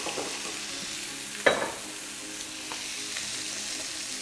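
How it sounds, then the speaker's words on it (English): Chicken breast laid skin side down in a hot pan, giving a steady close sizzle and crackle with a brief sharp spike as it hits the pan, then continuous frying hiss. "Start the breast and the skin side down, and you can hear that crackle straight away."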